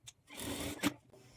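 A sewing machine runs briefly while stitching a blouse shoulder seam, giving a short, quiet mechanical whir with a faint click near the end.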